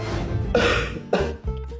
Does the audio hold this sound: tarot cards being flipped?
no